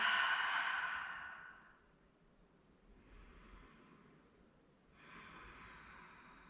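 A deep cleansing breath during yoga: a long, strong exhale that fades, then a softer, airy inhale and a second breathy exhale, close and with no words.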